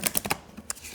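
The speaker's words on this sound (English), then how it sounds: "I am going to shuffle and select cards for a mirror reflection read." Tarot cards being shuffled give a few quick, faint, crisp clicks and snaps close by, with brief pauses between them.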